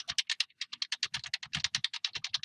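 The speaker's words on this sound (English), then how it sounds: "just type a couple sentences there" Rapid keystrokes on a computer keyboard, a close, crisp run of about two dozen even clicks typing out a couple of sentences, with no talking.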